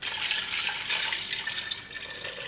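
Water gushes steadily into a metal pressure cooker holding mutton for a couple of seconds, a bright splashing pour with no talking.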